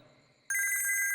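A mobile phone ringtone kicks in abruptly after a quiet moment, a loud, bright, repeating electronic melody that rings on steadily and close.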